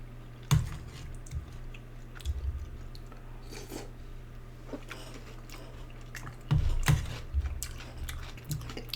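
Soft, moist chewing of beans close to the mic, with a few louder bites and squishy mouth sounds at intervals amid quiet background hum.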